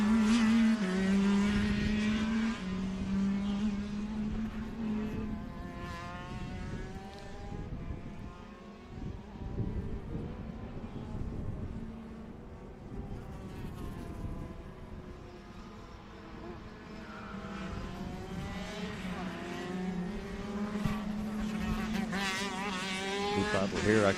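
Road racing motorcycles, the 250 class leader followed by two 125s battling, pass with rising and falling engine drones over continuous race commentary.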